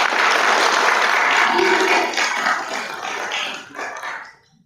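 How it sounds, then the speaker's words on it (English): A round of applause for a student being honoured at a board of aldermen meeting, loud and dense at first and then thinning and tapering away. A dog seems to bark or whimper faintly within it. "let's give her another round of applause"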